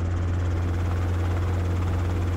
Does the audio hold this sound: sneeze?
no